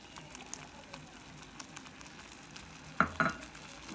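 Egg added to semolina halwa sizzles and crackles steadily in a hot pan, with a couple of sharper spatula scrapes or clinks near the end.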